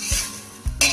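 Onions sizzling in a pan with meat and its fat, a close steady frying hiss broken by brief scraping stirs of a utensil against the pan.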